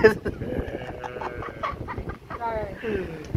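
Chickens cackling and clucking nearby in a busy, uneven stream of calls, mixed with background noise.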